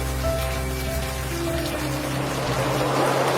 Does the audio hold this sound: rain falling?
yes